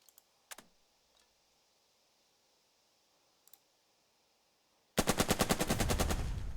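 Burden of Command video game: a few faint clicks, then a sudden loud burst of rapid machine gun fire near the end, rhythmic and sustained.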